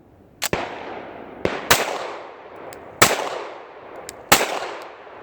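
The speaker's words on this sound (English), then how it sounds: "Those are the first shots fired with this thing." CZ P01 compact pistol firing four loud sharp gunshots spaced about a second apart, each shot followed by a short echoing decay, with no talking.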